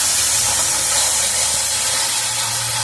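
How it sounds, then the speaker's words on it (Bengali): Spice paste sautéed in a pan for a fish curry gives a loud, dense, hissing sizzle that runs continuously for a few seconds without pause. "এবার আমি মশলাটাকে একটু কষিয়ে নেবো ভালো করে"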